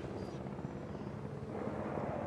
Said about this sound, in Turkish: helikopteri gel.